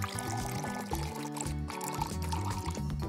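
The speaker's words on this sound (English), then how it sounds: "Pour the milk." Milk being poured for homemade cheese, a continuous liquid stream heard over cartoon background music and sound effects, with no talking.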